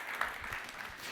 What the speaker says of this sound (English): Can I get a round of applause for Sandy for working on diabetes?